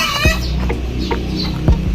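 A fighting rooster clucks a few times in short, close, low bursts, with brief pauses between the calls, just after being bathed.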